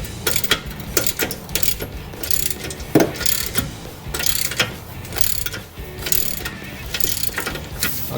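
Metal clicking from a box wrench used open-end over the bat wing to loosen a rear differential bolt on a C4 Corvette. The clicks are close and come in an irregular series over a steady mechanical background.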